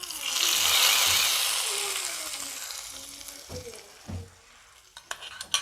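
Roasted coconut masala poured into a hot curry gives a loud burst of hissing sizzle that slowly fades, followed by a few clanks and taps of a utensil against the pot.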